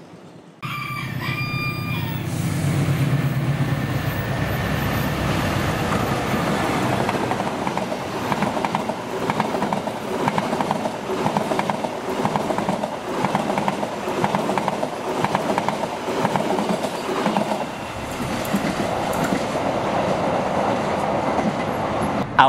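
The Argo Parahyangan passenger train rolls past on the rails in Bekasi Timur, Indonesia, with a steady rumbling clatter that lasts most of the time, and a rooster crows faintly near the start.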